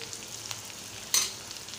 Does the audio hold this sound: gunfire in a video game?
no